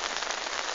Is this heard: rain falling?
yes